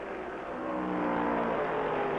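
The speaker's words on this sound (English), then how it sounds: "Only happiness lines Lee's face as his son streaks by Turner and goes into a lap lead." A 1965 NASCAR Grand National stock car at the American 500 roars past on the track, a steady loud engine drone that swells slightly over two seconds with no talk.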